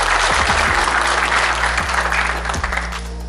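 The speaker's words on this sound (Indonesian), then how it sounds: "tepuk tangan untuk semuanya." A crowd at a Kediri children's forum congress applauds for the people just introduced. The clapping is thick and sustained, moderately loud, over a constant low-pitched hum, with no voices on top.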